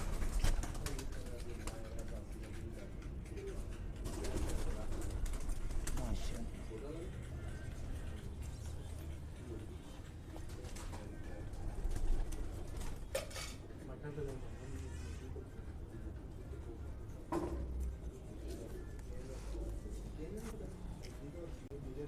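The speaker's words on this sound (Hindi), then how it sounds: "ये टैडी कबूतर है" Pigeons coo softly in the background while someone talks nearby, with occasional clinks and rustling throughout.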